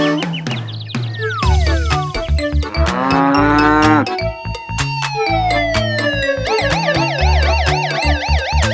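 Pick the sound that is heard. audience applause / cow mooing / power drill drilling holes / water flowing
cow mooing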